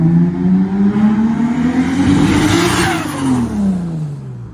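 A Toyota Supra engine revs under load while building boost, a loud, close mid-pitched drone that rises steadily in pitch, then drops back as the throttle eases.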